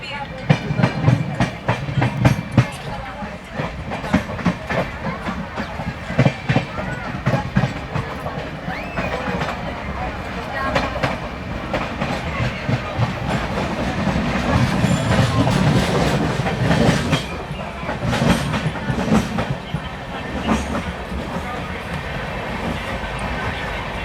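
Indian express passenger train, the 11404 Kolhapur–Nagpur Express, running on rails with continuous rumbling and rhythmic clickety-clack of wheels over joints, loud and close throughout.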